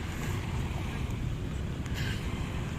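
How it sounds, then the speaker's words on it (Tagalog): A boat arriving on Manila Bay, its motor droning beneath wind buffeting the microphone and lapping water, a steady low rumble with no talk. "May bagong dating na bangka"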